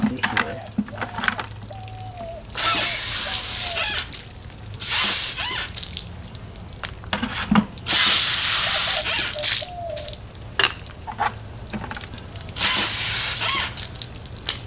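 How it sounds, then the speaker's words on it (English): Car detailing tools being rinsed under running water, with several loud bursts of spraying and splashing separated by quieter dripping pauses, close by. "So I'll just make sure that I quickly rinse them."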